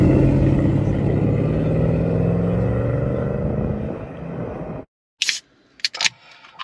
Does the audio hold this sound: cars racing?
yes